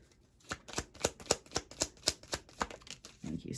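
Tarot cards handled and shuffled while drawing a last card, a run of about a dozen crisp, evenly spaced riffling snaps, close and fairly quiet, ending in a softer rustle.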